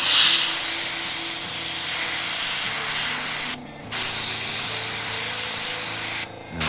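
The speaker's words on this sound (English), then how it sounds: "I didn't have to do this part with the airbrush." Airbrush spraying paint onto a Star Destroyer scale model, a close, steady hiss broken by two short pauses where the spray stops, with no talking.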